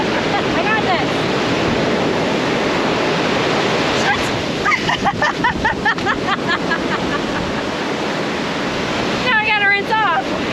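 Ocean surf rolls and washes steadily onto an island shore, loud and close throughout, with people talking over the waves in the middle and near the end.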